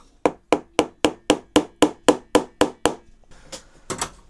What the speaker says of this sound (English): that's why I'm going to use my little hammer here